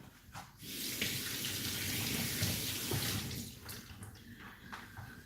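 Hands are washed under a running kitchen tap, a steady close rush of water splashing into the sink for several seconds, with brief handling noises at the start and end.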